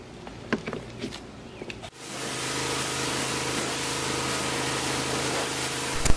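Water sprayed over a car's body panels during a home wash: a few faint knocks and handling sounds, then a loud, steady hissing spray that runs continuously and close by until a short clatter at the end.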